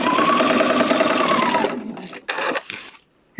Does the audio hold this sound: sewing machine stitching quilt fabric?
yes